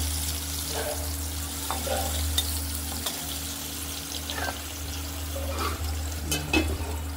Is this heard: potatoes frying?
yes